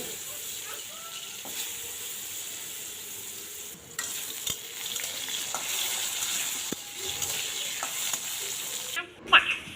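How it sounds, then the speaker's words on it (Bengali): Potatoes coated in salt and turmeric fry in hot oil in a wok, giving a continuous close sizzle and hiss. Occasional clinks of stirring break through, ending with a louder scrape. "প্রথমে আলুগুলো ভেজে নেব, লবণ আর হলুদ দিয়ে আলু মেখে নিয়েছি, ওইগুলো আগে ভেজে নেব"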